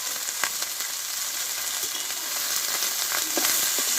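Cabbage stir-frying in a pan with salt and turmeric gives a steady, close sizzle with soft scraping and stirring clicks throughout, and no talk.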